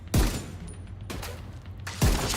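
Video game gunfire cracks in three sharp bursts at roughly one-second intervals. The shots are moderately loud, and a softer rumble fills the gaps between them.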